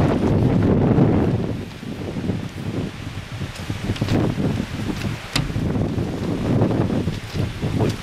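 Strong wind roars and buffets the microphone continuously, with gusty rumbling and rustling swelling and easing throughout.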